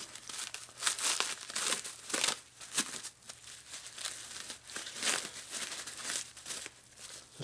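Plastic packaging from an eBay parts box for a 1948-65 panhead top motor mount is crinkled and crumpled close up, giving continuous irregular crackling bursts with no voices.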